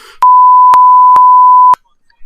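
A censor bleep: four short, loud, steady single-tone beeps evenly spaced across about a second and a half, alone with no talk over them.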